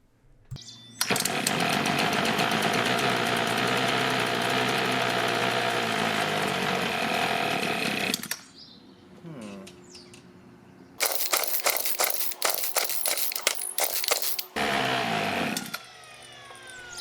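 A small petrol engine roars unevenly for several seconds after being pull-started, then cuts out and restarts in rough, sputtering bursts before dying again, loud and close with no voices.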